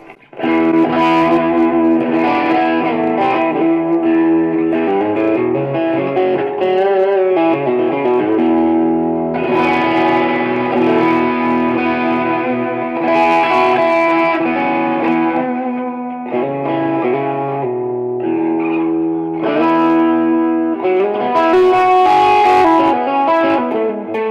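Electric guitar played through a Vox MV50 amp on its distortion setting, loud and saturated with sustained chords and riffs running continuously, brief pauses between phrases, no voices.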